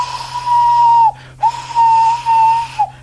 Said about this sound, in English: Thomas heard an engine whistling